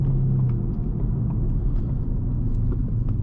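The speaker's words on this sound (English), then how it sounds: "Active rev matching is spot on, hits the throttle blips every time." A 2019 Ford Mustang Bullitt with a 5-liter V8 and six-speed manual rumbles deep and steady, with throttle blips from active rev matching on downshifts swelling the low engine note close up.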